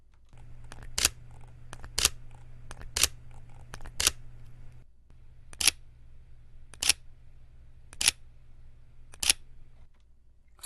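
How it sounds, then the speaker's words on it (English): Sony a7R III mirrorless camera firing its shutter with electronic front curtain on, eight sharp isolated clicks spaced roughly a second apart over a faint low hum, close and crisp with quiet between each. "this is the sound of the camera shutter moving"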